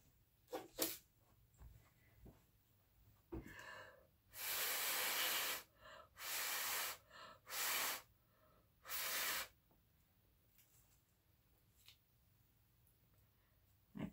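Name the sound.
small air blower blowing on painted ornament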